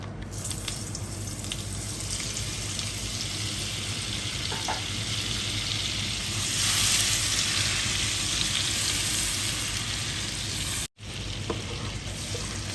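Burger steak fries in a pan of oil with added butter, giving a steady, loud, continuous sizzle with faint clinks of stirring throughout and a brief dropout near the end.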